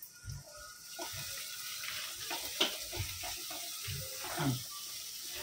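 Chopped onions frying with salt in a pan crackle softly, with intermittent clinks and scraping of a utensil against the pan, fairly quiet and close, no voices.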